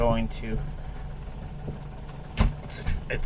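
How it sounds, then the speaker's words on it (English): A Morris 1300 engine idles low and steady with its choke fully off, a deep rumbling hum with a few brief knocks and rattles on top. "So the idle's really low now because it's just been running for a minute or two"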